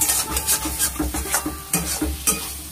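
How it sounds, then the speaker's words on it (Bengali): Vegetarian kochur loti curry stirred briskly in a pan, with rapid rhythmic scraping strokes over a continuous close sizzle. "দিয়ে এটা এবার খুব ভালো করে নাড়তে থাকবে।"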